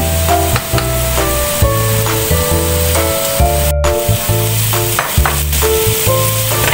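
Flat noodles fry in a pan, a loud, close sizzle under a repeating background music loop, with stirring scrapes now and then and no speech.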